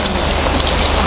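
Steady rain pours down at an outdoor community gathering in Kupwara, a dense, even hiss of drops striking surfaces close by, with no voices over it.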